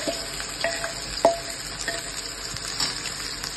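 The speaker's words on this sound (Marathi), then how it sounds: "तेल चांगलं गरम करून झालं की आपल्याला ही पेस्ट चांगली व्यवस्थित परतून घ्यायची आहे." Spice paste fries in hot oil in a kadai for a chicken gravy, making a steady close sizzle with occasional light clinks of a spoon stirring against the pan.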